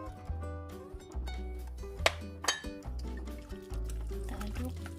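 A spoon works 75 grams of butter into a hot chocolate custard mixture in a pan, giving soft, wet squishing and gloopy liquid sounds in irregular bursts, close up.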